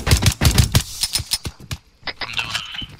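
Rapid bursts of turret gunfire in the military shooter Arma 3 crack out in quick, sharp strings, loud and close, followed by scattered shots and clatter fading later.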